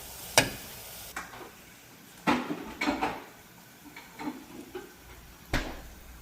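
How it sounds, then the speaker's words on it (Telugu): Spice paste with tamarind frying in a pan in a home kitchen, heard as soft scattered sizzling under a string of clear utensil clinks and stirring scrapes, close and fairly quiet. "ఇలా మంచిగా పచ్చి వాసన వెళ్ళే వరకు ఫ్రై చేసుకోవాలి"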